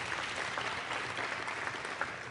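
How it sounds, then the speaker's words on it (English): Steady applause from an audience at a leadership summit keynote in Northern Nevada, a dense even wash of clapping filling the room without a break. "So one more round of applause for Stephanie."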